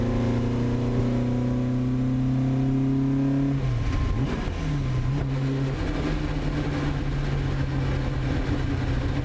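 A classic Marcos race car on a soaking wet Silverstone track holds a steady engine drone, then revs up and down as it shifts, with constant road and spray noise underneath.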